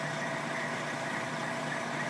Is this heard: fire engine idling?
yes